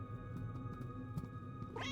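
A cat meows from the video game, a short rising call near the end, over steady game background music and ambience.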